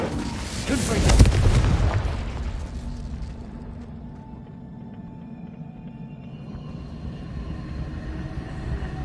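A Confringo spell in Hogwarts Legacy bursts into a single loud, booming explosion about a second in, then its rumble decays into a long, low fading tail under ambient game sound.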